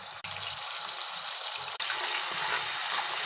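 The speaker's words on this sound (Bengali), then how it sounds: "এটার মধ্যে আমি চিংড়ি মাছটা ভেজে নিব হালকা" Prawns seasoned with turmeric and a little salt fry in hot oil in a pot, giving a steady, close sizzle that briefly drops out twice and then returns brighter and louder.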